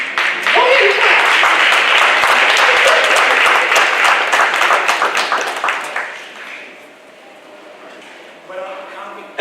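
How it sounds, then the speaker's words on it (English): Loud audience applause at an awards ceremony, dense clapping from a large crowd for about six seconds before fading to scattered claps and quiet, with a brief renewed patter at the end. "Go ahead and clap"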